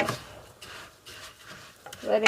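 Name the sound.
rice toasting and being stirred in a pan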